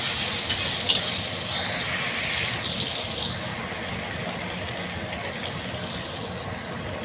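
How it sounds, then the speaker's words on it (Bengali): Chopped onions fry in a pan for chicken curry with a steady, soft sizzle and occasional stirring scrapes, close and continuous without any talk. "এবার তো পেঁয়াজটা আমরা হালকা লাল করে ভেজে নেব।"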